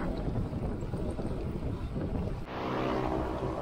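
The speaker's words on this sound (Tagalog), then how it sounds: "Grabe, lakas ng hangin." Steady roaring headwind buffeting the microphone while cycling toward Burgos, Ilocos Norte, loud and constant, swelling stronger near the end.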